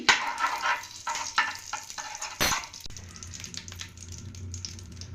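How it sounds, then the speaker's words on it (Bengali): A spoonful of ghee added to hot white oil in a pan, sizzling with crackles and stirring clatter, then settling into a quieter, steady fry. "তেলটা খুব ভালোভাবে গরম হয়ে গেলে এর মধ্যে দিয়ে দিচ্ছি এক স্পুনের মতো ঘি"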